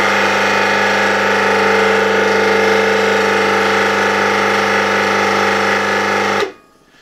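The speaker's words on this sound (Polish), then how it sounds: "Zobaczmy, jakie będzie teraz wskazanie, jeżeli uruchomię ten silnik." A 1964 BZFWr 120/78 electric motor, running on its main winding only, hums steadily and loudly with a strong mains-like drone and whine for over six seconds, then cuts off abruptly into near silence.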